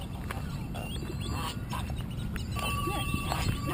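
Ducks quack outdoors in a busy, noisy setting, their calls mixed into a loud steady background wash along with some talking.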